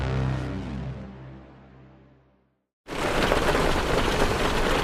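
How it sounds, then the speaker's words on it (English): Hail pelts Hardie fiber cement siding, bursting in abruptly as a dense, loud, steady rattling hiss after a fading musical tone and a moment of silence. "What you're hearing is Hardie Fiber Cement Siding living up to its reputation as the siding that"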